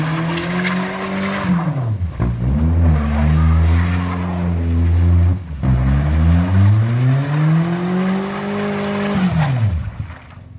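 Toyota Camry engine running loud and close, revving up and down in long sweeping pulls as the car is driven and maneuvered into position, with tires scrubbing along.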